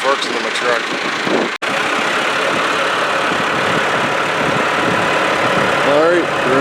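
A forklift engine runs with a steady low idle and rumble while unloading a Logan lathe from a truck, with voices talking over the continuous drone.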